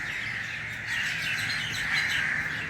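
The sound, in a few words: birds calling in a tree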